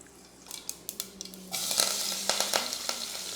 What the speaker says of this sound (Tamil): தாளிக்கிறதுக்கு எண்ணெய் ஊற்றிடுவோம்.